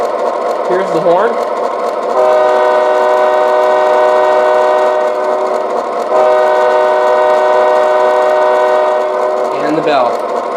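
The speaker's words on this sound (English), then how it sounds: "Here's the horn." The horn of an MTH Railking Union Pacific Aerotrain model train gives two long, loud blasts, one after the other with a brief gap. Each is a sustained chord over the engine's running hum.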